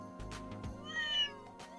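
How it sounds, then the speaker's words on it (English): A cat meows in the video game Trails in the Sky, one clear, drawn-out rising-and-falling meow amid quiet game sounds, with no talk over it. "Meow."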